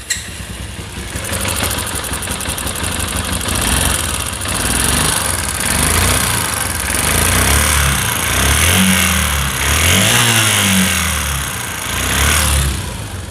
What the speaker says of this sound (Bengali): দ্বিতীয় নম্বর বিষয় হলো ইঞ্জিনের সাউন্ড একদম বাজে, ইঞ্জিন আগুনের মতো গরম হয়ে গেছে। তো ইঞ্জিনের সাউন্ডে আপনারা শুনুন।